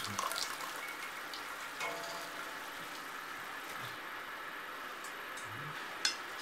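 Spaghetti simmers in tomato sauce in a frying pan, giving off a soft, steady sizzle with a few small pops and clinks.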